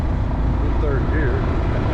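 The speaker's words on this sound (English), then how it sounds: "now we get wind all of a sudden" Steady low wind rumble buffets the microphone during a slow ride up a hill in third gear, a loud, continuous roar with faint whining tones drifting through it.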